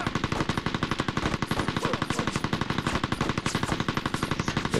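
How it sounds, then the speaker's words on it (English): Heavy machine gun fire in the Mercenaries: Playground of Destruction video game, a loud, continuous, rapid stream of evenly spaced shots filling the whole stretch, with no talking over it. "Heavy machine guns. They're useless in this game."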